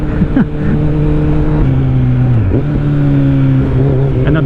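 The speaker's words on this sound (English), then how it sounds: "And I'm downshifting with an Acra." A Kawasaki Z900 motorcycle with an Akrapovic exhaust downshifting, a loud close engine tone that drops in pitch at each shift, with short blips between them.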